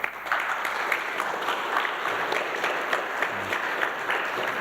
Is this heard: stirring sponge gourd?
no